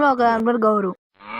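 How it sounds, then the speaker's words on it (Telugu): A buffalo moos once, a close, drawn-out low call lasting under a second, followed by a person speaking briefly. "అవి 2 బర్రెలు ఉన్నాయి రా, అది పెద్దది చిన్నది."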